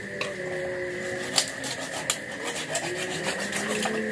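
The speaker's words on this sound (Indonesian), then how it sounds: "Nah ini dipotong-potong tuh, bu pisaunya tajam banget." A very sharp knife saws and rasps through a super-jumbo pomfret on a board, with continuous close scraping strokes and a couple of louder knocks. No one speaks over it.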